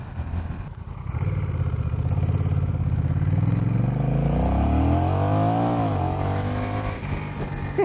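A Honda CMX1100 Rebel cruiser motorcycle engine runs while riding, its low, throbbing note climbing in pitch as it accelerates, holding a steady rise, then dipping briefly before pulling again, loud and close throughout.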